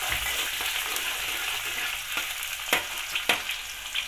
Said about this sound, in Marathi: कांद्याला थोडं हलवून घेऊया।